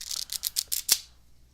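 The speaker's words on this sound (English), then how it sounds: "we're going to shuffle face up into face down cards" Playing cards riffle-shuffled face up into face down, a quick rhythmic series of crisp flutters ending in a short snap, close and alone.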